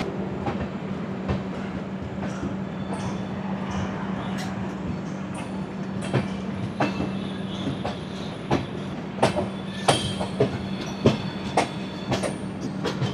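Howrah–Puri night train from Kolkata pulling away after a halt, heard from inside: a steady low rumble with rhythmic wheel clicks that grow more frequent and pronounced as it gathers speed.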